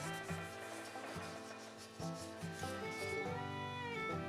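Wax rubbed onto the wooden body of a restored antique hand plane makes a soft, close, continuous rubbing and scuffing sound in quick repeated strokes, with no voices.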